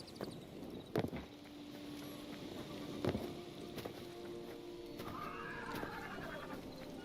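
Horses neigh and whinny in the video game Hytale, a faint whinny near the end over a steady ambient wind-like bed, with scattered soft thuds and clicks.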